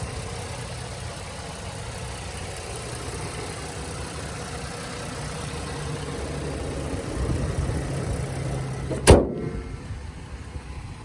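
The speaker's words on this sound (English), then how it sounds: "Got your V6 engine right here." A 2010 Mazda CX-9 AWD V6 engine idles with a low steady hum, then a sharp click near the end followed by quiet.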